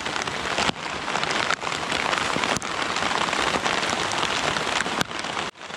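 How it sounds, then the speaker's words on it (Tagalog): Heavy afternoon rain pours steadily on a house under renovation in a dense, loud hiss, with a few sharp knocks from drops striking a hard surface. "Ang grabeng lakas ng ulan."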